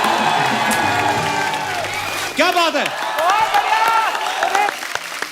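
Studio audience on The Kapil Sharma Show cheers and applauds as a singer is welcomed to the stage, a loud continuous wash of clapping and whoops with a host's voice and music over it.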